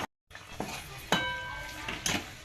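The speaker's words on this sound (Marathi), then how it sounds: "आता वापस मसाला छान असा थोडासा फ्राय करून घेऊया" Masala for a dhaba-style egg curry fries in a pan under a low, steady sizzle, with a few sharp metallic clinks as a spoon strikes the pan.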